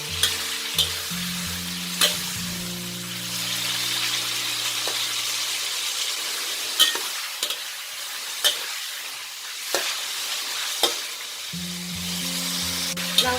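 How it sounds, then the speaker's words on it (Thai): Pork belly frying in hot oil over medium heat, a steady close sizzle with periodic clinks and scrapes of stirring, while a low hum fades in and out underneath. "เมื่อน้ำมันเริ่มร้อนนะ ใส่หมูสามชั้นเราลงไปเลยค่ ะ"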